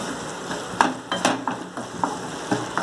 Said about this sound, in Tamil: தக்காளி வந்து நல்லா ஃப்ரை ஆகிடுச்சு.